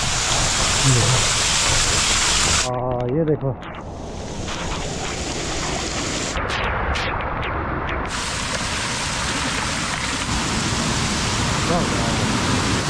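Heavy monsoon rain pours down in a dense, constant roar in the hills, with some wind buffeting the microphone and water gushing from a pipe, while someone speaks briefly over it.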